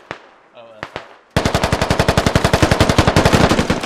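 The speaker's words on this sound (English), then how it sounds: "multiples being shot at now" Video game gunfire from a squad-based military shooter: a few scattered single shots, then a long, steady, rapid machine-gun burst, loud and close, with no talk.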